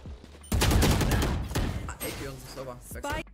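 A rapid burst of gunfire in the tactical shooter Valorant rattles loudly for about a second, followed by scattered shots and game effects, with a voice talking over the later part.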